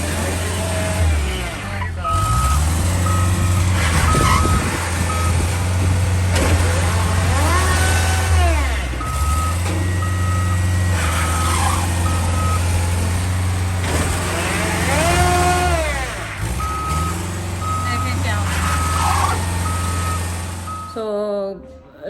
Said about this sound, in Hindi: तो हमारा टो ट्रक आया था जो उठाने के लिए, वो फंस गया है।